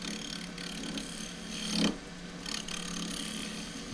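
A tool edge shear-scraping the bark rim of a tiny wooden bowl spinning on a lathe, with a steady soft rasping scrape throughout and a brief louder swell partway through.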